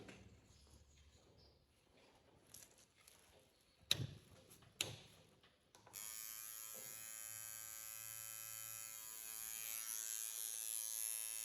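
A tattoo machine buzzes while lining a lily tattoo, starting as a steady, close, high-pitched whine after a few quiet clicks and handling knocks, then running continuously to the end.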